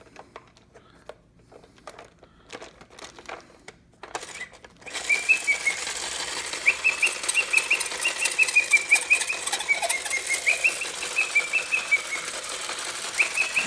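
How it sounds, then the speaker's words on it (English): After a few faint clicks, a vintage 1987 Ideal Mr. Machine wind-up robot whirs steadily with a rapid mechanical ratchet, and a thin high whistle from its small airbag wavers on top throughout. "the little airbag there makes him sound like he whistles"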